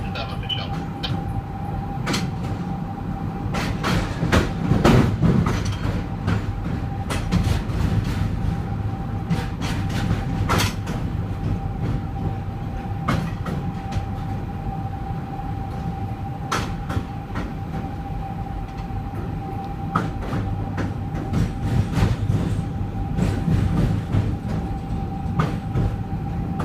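A VIA Rail Canada Ocean passenger train crossing the Quebec Bridge, heard from on board as a steady loud rumble with repeated rail clicks and clanks and a sustained tonal whine running through the whole passage.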